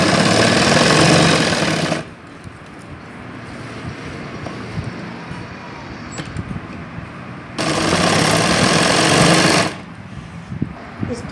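A sewing machine stitches a second line along the border of a lehenga, running in two loud steady bursts of motor whir separated by a quieter stretch of handling noise.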